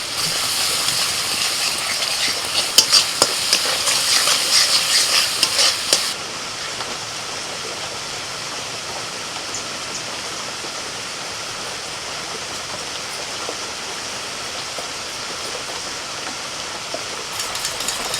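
Spice masala of tomato paste, Kashmiri chilli, turmeric, cumin and coriander fries in a pan with a steady close sizzle, louder with stirring for the first six seconds, then a softer continuous hiss.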